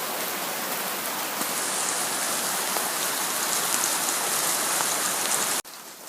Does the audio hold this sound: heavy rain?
yes